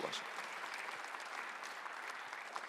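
Steady applause from a church congregation at a Korean Christmas Sunday worship service, a dense wash of many hands clapping that holds evenly for a few seconds.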